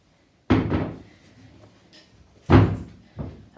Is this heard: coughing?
no